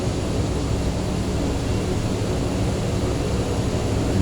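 Propeller engine of a Cessna Grand Caravan in a flight simulator, a loud, constant droning hum with steady broadband roar and no pauses, heard alone.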